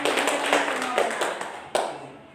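A group of students applauds in a classroom, a brief burst of mixed clapping that fades out, ending with a single sharp clap.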